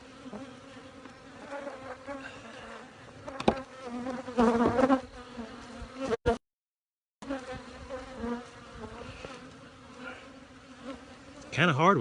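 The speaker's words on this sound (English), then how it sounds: "Great deal of bees right there." A swarm of bees buzzing near the microphone, a continuous droning hum with individual insects swelling louder as they pass close, briefly cut out midway, then resuming.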